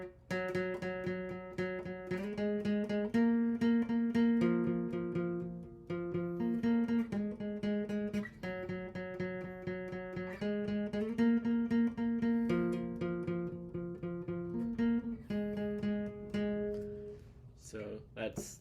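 An electric guitar plays the repeating main riff of a song, clear single-note melodic phrases looping steadily and close, with no talk.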